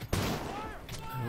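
Pistol shots in the video game Cyberpunk 2077: a sharp, loud blast near the start, with a fainter report near the one-second mark, over a busy game mix.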